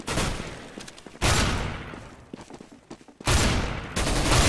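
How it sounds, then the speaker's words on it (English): Rapid bursts of gunfire from a Counter-Strike: Global Offensive match, loud and dense, coming in several sustained volleys separated by brief lulls with scattered single shots. "Where the hell are these people shooting from?"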